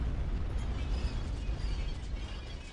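Orbital bombardment in the strategy game Star Wars: Empire at War rumbles as a sustained, heavy, low explosive roar, with crackling bursts layered on top and no talk.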